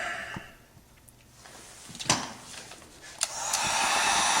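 A heat gun shrinks heat-shrink tubing over wiring for a model train control panel, beginning as a soft whoosh and rising to a steady, loud airy blast over the last second, with a few sharp clicks and knocks along the way.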